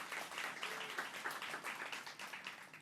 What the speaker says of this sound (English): So let's give another round of applause to our Lieutenant Governor.